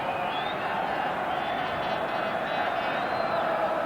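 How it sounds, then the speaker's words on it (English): Dense, steady roar of a big stadium football crowd before the 1984 Scottish League Cup Final between Dundee United and Rangers, a distant wash of massed voices with no single shouts standing out. "Roars of expectancy from the crowd."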